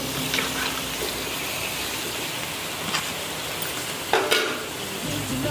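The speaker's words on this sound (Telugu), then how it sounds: "సో రొయ్యలు వేసుకుందాం మనం ముందు." Shrimp sizzling in a hot pan as they go in for a shrimp pasta, a steady broadband frying hiss with a few sharper crackles and spatters, close up and without any talk.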